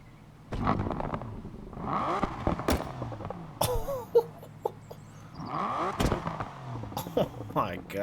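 An Aston Martin Vulcan engine in Need for Speed Unbound revs and roars in loud, rising and falling surges, with sharp bursts and shifts. It plays under a voice that talks excitedly.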